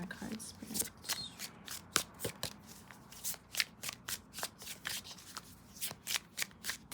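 Tarot cards are riffled and shuffled in quick repeated bursts, a soft rhythmic flutter close by, with no speech over it.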